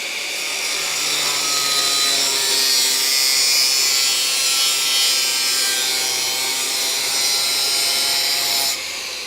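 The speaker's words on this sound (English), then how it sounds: "I got to get a little flashy with the grinder here" An angle grinder cuts into rusty inner rocker and seat mount bracket metal on a Dodge Coronet crew cab conversion, a loud, steady high-pitched whine running continuously for about eight seconds before stopping abruptly near the end.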